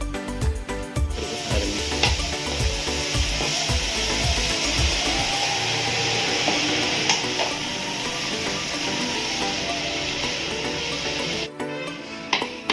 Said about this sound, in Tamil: வேக வச்சு வடிகட்டின வாழைப்பூவை பச்சை பயிறு கூட சேர்த்து நல்லா வதக்கிக்கலாம்.